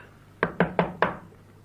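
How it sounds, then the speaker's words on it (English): Four firm knocks on a house door in an even, quick rhythm, close and distinct, followed by quiet, part of a spoken children's story recording. "And he knocked at the house again."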